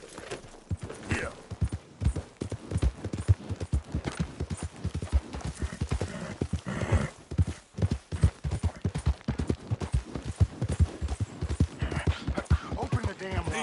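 Horse galloping under a rider in Red Dead Redemption 2, a fast, steady clip-clop of hooves close by, with a brief whinny and faint background game sounds throughout.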